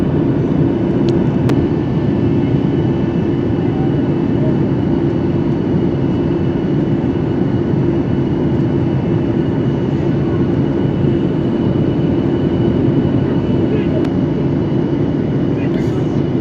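Steady, loud roar of a jet airliner cabin landing in the Seychelles, a constant low rumble with no clear change throughout.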